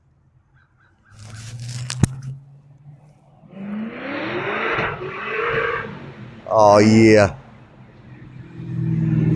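A Corvette engine revs somewhere down the road outside, rumbling and building in surges at a moderate distance, with a man's brief exclamation and other voices heard over it.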